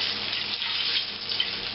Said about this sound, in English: Virgin olive oil going in the pan.